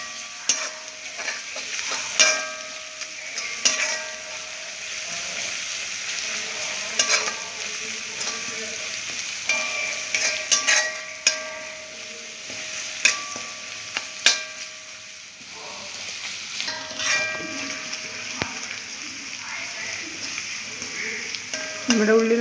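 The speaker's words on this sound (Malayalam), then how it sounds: "നമ്മുടെ ഉള്ളി നല്ലപോലെ മൂത്ത് വന്നിട്ടുണ്ട്." Onions sauté in a pan, a continuous frying hiss punctuated by frequent sharp metallic scrapes and clanks of stirring, close and fairly loud.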